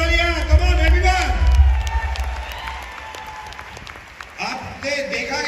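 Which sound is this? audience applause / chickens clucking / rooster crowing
audience applause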